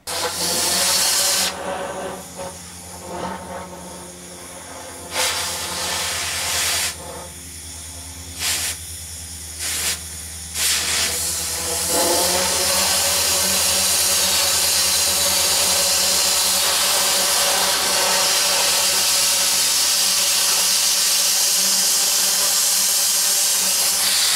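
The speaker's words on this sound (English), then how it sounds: "I cut it off with the torch" Cutting torch slices through metal on a bug-out vehicle's front bumper, a loud continuous roaring hiss with intermittent bursts and gaps, growing harsher and steadier in the second half.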